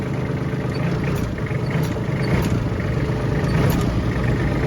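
A Kubota L2808DT tractor fitted with a raised exhaust pipe runs steadily, giving a continuous low, even engine rumble close by, with no talking.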